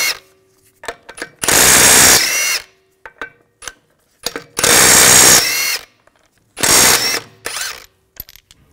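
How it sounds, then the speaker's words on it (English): A power tool with a 17 millimeter socket spins lug bolts off a 2006-2010 BMW 550i front wheel in three separate loud whirring bursts, with the ratcheting clicks of each bolt coming loose between them. "Take the lug bolts out."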